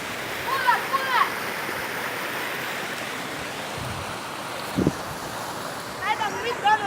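The Cachoeira do Corocochó waterfall in Piabetá, Rio de Janeiro, roars as a steady broadband rush of falling water, with people shouting and talking nearby and occasional splashes.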